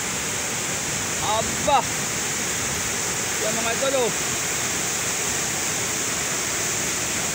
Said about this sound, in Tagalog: Ang lakas ng kagalal ng tubig.